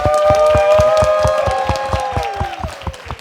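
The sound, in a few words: audience applause for a musician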